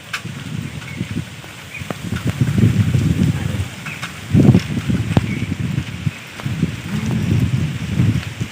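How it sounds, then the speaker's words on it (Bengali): Light rain falls outdoors on a morning with wind, making a steady, rough low rush with gusty swells and a few scattered drips and taps, fairly close and without speech. "হালকা হালকা বৃষ্টি পড়ছে,"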